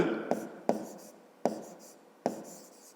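Marker or chalk strokes writing letters on a board during a geometry lesson, four sharp taps each followed by a brief scratchy stroke, close and fairly quiet while a voice speaks quietly.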